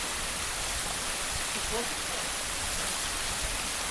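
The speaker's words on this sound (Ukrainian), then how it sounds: "ми в такому чарівному каньйоні, річка Манявка, йдемо на Манявський водоспад." Manyava waterfall in a mountain canyon on the Manyavka river, with water falling more than 20 metres, heard as a loud, steady, close roar of rushing water that fills the whole scene without letup.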